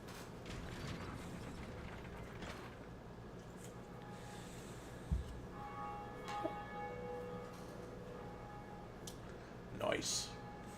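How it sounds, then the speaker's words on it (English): A bell tolls in the Dark Souls video game, rung once with a resonant strike that fades slowly, then a brighter metallic chiming swell near the end, all under steady mechanical background ambience. "We've rung the first bell."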